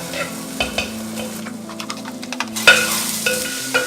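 Chopped shallots frying in a pan for Kuttanadan duck roast, a bright close sizzle broken by repeated spatula stirring scrapes and clinks, with no talk.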